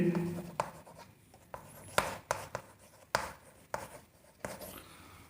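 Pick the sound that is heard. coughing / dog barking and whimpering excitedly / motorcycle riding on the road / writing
writing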